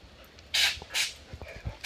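Several dogs play with a ball outdoors in Makawao, giving short yips and whimpers amid bursts of panting or scuffling, fairly close and irregular, with no talking.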